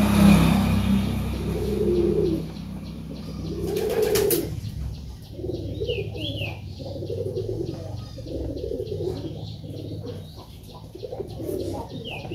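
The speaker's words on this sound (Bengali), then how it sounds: "তো এই কবুতরটাকে আমি এখন ছাড়ে দেব।" A pigeon let go after being trapped in a homemade bird trap, with a rush of flapping wings early on followed by repeated soft, low cooing close by, some faint chirps and distant traffic behind.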